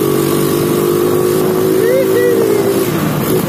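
A Yamaha Jupiter Z motorcycle engine with a cut 1.8 mm magnet and stock carburetor revs steadily up close, its buzzing tone rising and falling slightly, with a voice talking over it.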